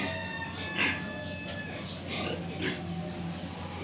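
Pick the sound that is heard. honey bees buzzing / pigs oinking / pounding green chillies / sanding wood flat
pigs oinking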